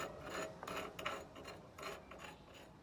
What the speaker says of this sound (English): sand and dirt has accumulated in the recess on the coach frame and should be cleaned out with a